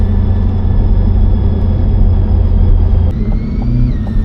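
Loud, deep rumble of a 2025 Corvette E-Ray engine idling steadily, with a slight shift in tone partway through.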